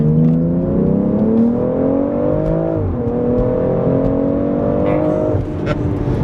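A BMW X3 M with the S58 engine and a plug-in power module accelerates hard in second gear, its loud, close engine note rising steadily, dipping briefly at a shift and climbing again.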